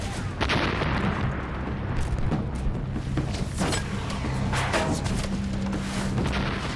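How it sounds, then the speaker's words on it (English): Repeated heavy booms of WWII Japanese artillery shells exploding around a landing boat, sharp blasts scattered over a constant low rumble, some near and some farther off. "Jap artillery is raining down all around us."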